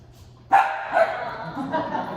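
A dog barks at another dog, with one sharp bark followed by a shorter bark and a softer whine-like tail, loud and close.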